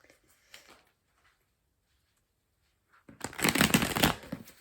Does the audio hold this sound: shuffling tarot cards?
yes